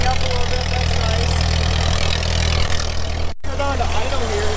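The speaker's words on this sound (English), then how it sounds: "I'm gonna let it idle here for a little bit" A 1944 Ford tractor engine idling loud and close with a steady low rumble and slightly uneven, missing beats, running continuously except for a brief cut near the end.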